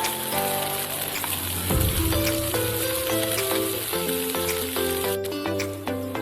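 Egg roast masala frying and sizzling in a pan while it is stirred, a steady hiss with scraping under tonal kitchen background, continuous and fairly close.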